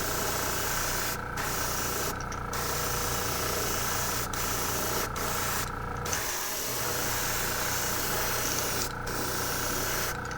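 A paint spray gun hisses steadily as it lays black paint onto a square-bill crystal shad crankbait lure, a continuous close airy spray with a few brief pauses where the trigger is released.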